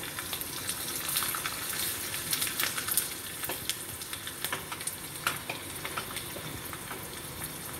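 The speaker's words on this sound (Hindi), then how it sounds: "अब मैं इसमें चुटकी भर लाल मिर्च और करी पत्ता और 4-5 हरी मिर्च चीरा लगाकर फ्राई करूंगी।" Steady sizzling of curry leaves and slit green chillies frying in hot oil for a dhokla tempering, with crackles and pops rising and falling over several seconds, close and fairly loud with no talking.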